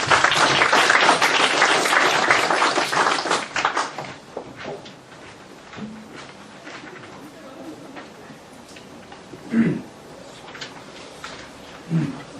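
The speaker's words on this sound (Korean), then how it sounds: "여러분 큰 격려 박수 부탁드립니다." Audience applause at a philosophy lecture colloquium, loud sustained clapping from a hall crowd for about four seconds that fades to scattered claps, followed by faint room noise and a few soft bumps.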